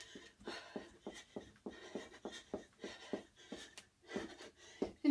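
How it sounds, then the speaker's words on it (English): Heavy breathing during a bodyweight endurance workout of high knees and star jumps: rhythmic, fairly faint sharp exhales and inhales repeat about every half second, close to the mic over a quiet background. "Really hear me heavy breathing here."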